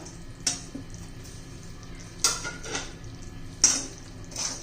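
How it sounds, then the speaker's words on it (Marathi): Dry fruits stirred into sugar syrup in a pan, with a few distinct metallic clinks of a spoon against the pan over a quiet background. "आता सर्व आपण मिक्स करून घेऊया"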